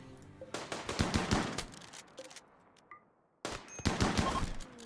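SMGs and a chain shotgun fire in RimWorld, two dense rattling bursts of rapid shots separated by a quiet gap with a few faint tones.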